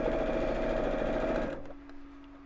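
A sewing machine stitches through firm Decovil interfacing while making a small tote, a loud, rapid, steady whirr for about a second and a half before it stops abruptly and leaves a faint hum.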